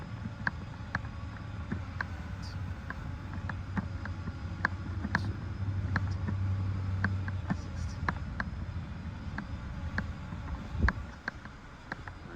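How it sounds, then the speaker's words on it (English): Wind buffets the microphone outdoors during a small drone's test flight, a steady low rumble with scattered light clicks and faint motor whine running the whole time. "Whoa, the wind."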